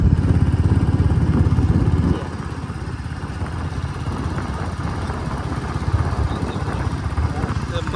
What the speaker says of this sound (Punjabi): ਦੂਜੇ ਗੇਅਰ 'ਚ ਮੋਟਰਸਾਈਕਲ ਜਿਹੜਾ ਹੈਗਾ ਜ਼ੋਰ ਮੰਨੀ ਹੈ